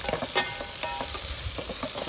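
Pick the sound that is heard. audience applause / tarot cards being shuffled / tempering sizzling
tempering sizzling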